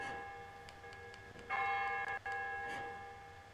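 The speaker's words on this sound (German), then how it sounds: "Zieh zweimal mit den Glocken an den Augen." Bells are pulled during a prison puzzle in the video game Silent Hill Downpour, ringing a few quiet metallic tones with long sustained overtones. One strike is louder mid-way, and the bells sound alone at low level.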